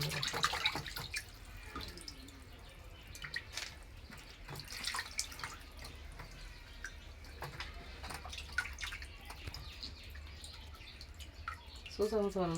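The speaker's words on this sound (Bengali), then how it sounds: "মাছটি ধোয়া হয়ে গেছে" Fish is washed under a running kitchen tap, with a steady stream of splashing and dripping water and a voice talking over it.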